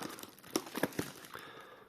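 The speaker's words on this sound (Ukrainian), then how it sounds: "я даже скотч здираю" Packing tape ripped off a cardboard parcel in several short, sharp tearing bursts, close up and fairly quiet, with no talking over it.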